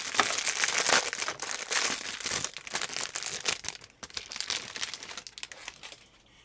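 Sealed plastic wrapping around a new ribbon cartridge for an Epson FX-80 dot matrix printer is crinkled and torn open, giving dense, continuous crackling and rustling for several seconds, close and fairly loud, with no talking.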